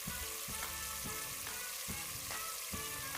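Momo filling sizzling in a pan as it is stirred with soy and oyster sauce for chicken momos, a steady frying hiss broken by regular scraping strokes about every half second, close and fairly loud.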